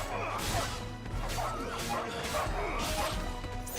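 A dog in a video game barks repeatedly in sharp yips amid combat, with crashing and whipping impacts layered over a low droning background.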